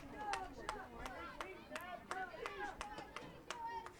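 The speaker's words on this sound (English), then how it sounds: "And fans either side of us cheering on their team." Spectators at a U14 boys' youth soccer match, Newfoundland and Labrador against Nova Scotia, clap and shout in steady rapid rhythm, with young voices calling out over a continuous, moderately distant crowd.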